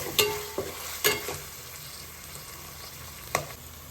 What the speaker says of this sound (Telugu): అల్లం వెల్లుల్లి పేస్ట్ బాగా వాసన అంతా పోయి బాగా వేగేదాకా ఉంచుకోండి